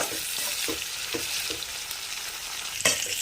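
Brinjal pieces frying in oil with a little salt, producing a loud, close, continuous sizzle broken by several scraping stirs and a sharp clink near the end.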